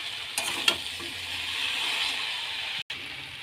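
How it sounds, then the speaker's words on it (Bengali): Jackfruit, mutton and fat stir-fry in a pan with a steady, close sizzle, broken by a few soft scrapes and clicks of a spatula. "এঁচোড় মাংস আর চর্বি সব একসাথে কষা হয়ে গেছে"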